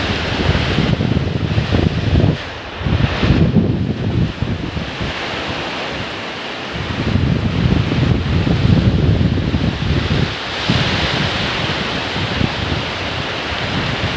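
Storm winds, the first big storm of the year, roar in heavy, rushing gusts that buffet the microphone, swelling and easing across the whole stretch with no voices.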